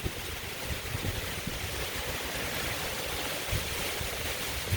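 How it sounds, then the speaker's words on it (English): Intense wind from a brief, violent thunderstorm roars in a continuous broadband rush with occasional low gusty thumps, loud and unbroken. "that wind is really intense"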